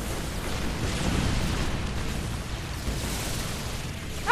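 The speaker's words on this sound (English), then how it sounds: "Oh, I'll add to the explosions." Continuous rumbling explosions and bursts from the video game Earth Defense Force, a dense, roaring wash of blasts that swells around the middle and stays loud throughout, with no talk over it.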